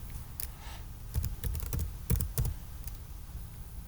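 Clicky keystrokes on a small, cramped computer keyboard, typed in short irregular bursts close to the mic over a low background hum, with no talking.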